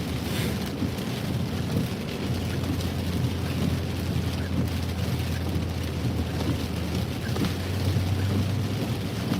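Heavy rain pours along Interstate 95 north of Boston, a constant loud roar with wind buffeting the microphone and a deep low rumble underneath, no talking.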